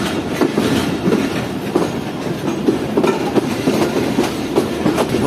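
The Karakoram Express rolls along the rails in Pakistan with a steady clickety-clack of wheels over track joints, loud and continuous under a constant rumble.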